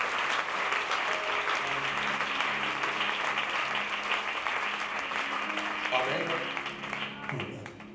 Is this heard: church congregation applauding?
yes